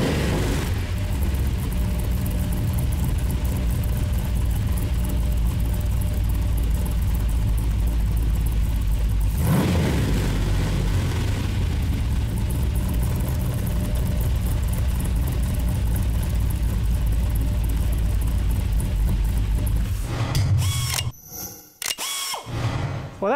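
A Chevrolet LS3 V8 engine running on a stand, a steady loud mechanical roar with a rev swell near the middle, then a sharp revving burst and clatter at the end, no talking.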